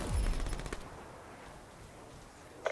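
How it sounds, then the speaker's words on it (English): A sentry gun in a video game fires a loud rapid burst of automatic gunfire that quickly fades into a low background rumble, with a single sharp shot near the end. "Under sentry fire."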